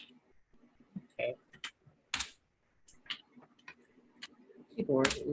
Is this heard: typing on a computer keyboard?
yes